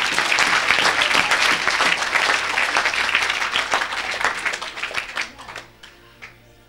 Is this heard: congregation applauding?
yes